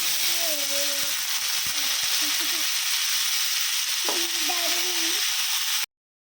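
Green peas sizzle and fry in hot oil in a pan, a steady close hiss with a few faint clinks and a short stir midway, before the sound cuts off abruptly.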